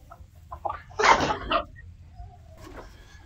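Clucking from a flock of hens with a rooster sounds close by, a few scattered calls around a louder burst in the middle, then quieter background.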